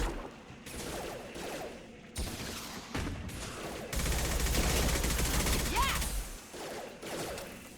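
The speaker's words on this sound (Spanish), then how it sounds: "munición incendiaria. Lo agarro y disparo." Incendiary-ammo gunfire from Mass Effect 2 rattles out in dense bursts, heaviest in a sustained volley near the end, with brief pauses between bursts and a faint voice underneath.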